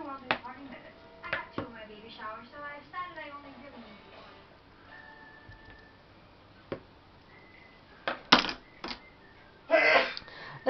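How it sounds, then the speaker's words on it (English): Handmade cold process coffee and cream soap, made with brewed coffee and coffee grounds, being cut by hand: a few sharp cutting knocks come near the end, after a stretch of close talking. "So I do cut all of my soaps by hand"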